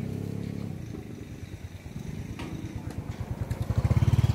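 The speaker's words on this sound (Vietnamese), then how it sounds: "Anh em cũng tiến hành nổ máy rồi." Rice-harvesting machine engines start up in a Vietnamese rice field, a chugging putter with rapid even pulses that grow louder and faster toward the end, close by and without talk.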